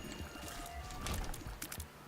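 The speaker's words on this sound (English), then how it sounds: "That is my dog drinking" A dog drinking from a water bowl close by, with a run of wet, splashy laps in an uneven rhythm over a steady low background hum and no voices.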